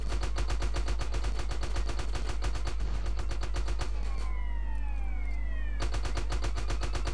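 AK rifle fire in the game GTA San Andreas: a steady, rapid stream of loud shots that pauses briefly, then resumes, with a siren wailing in the background.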